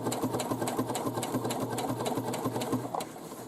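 A sewing machine stitching the pocket hem of a fabric drawstring bag, running in a fast, even rhythmic chatter close by for a few seconds before slowing at the end, with no talking.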